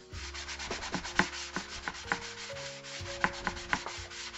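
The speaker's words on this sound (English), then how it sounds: "we are just going to start scrubbing" A sponge scrubs a dish rack in repeated quick rubbing strokes, close and fairly loud, with small clicks and knocks against the rack and no talking.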